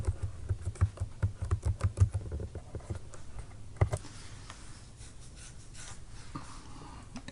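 Quick, light tapping on a computer keyboard, a close run of keystrokes that thins out after a few seconds into quieter scattered taps.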